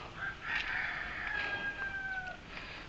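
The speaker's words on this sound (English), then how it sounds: "Cock-a-doodle-doo." A rooster crows in one long drawn-out call lasting a couple of seconds, fairly loud and a little distant, over a steady outdoor background noise.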